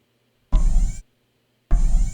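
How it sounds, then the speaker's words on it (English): Two heavy stomping footsteps from a giant video game robot, the Patrol Mech, each a short, loud, thudding metallic impact with silence between them. "Patrol Mech Footstep 1 and 2."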